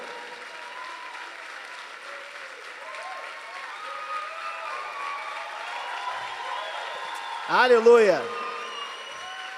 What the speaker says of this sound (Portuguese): Vamos aplaudir Jesus na vida dele?